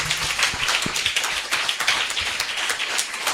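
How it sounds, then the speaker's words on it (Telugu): A church congregation claps loudly together in a dense, continuous patter of many hands that stays even for a few seconds. "గట్టిగా చప్పట్లు కొట్టేసి మహిమపరుచుకుందాం"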